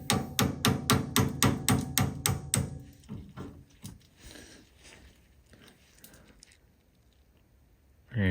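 Sharp metallic hammer blows strike the steering parts of a 1930 Ford, around ten evenly spaced hits at close range, then quieter clinks and handling noises.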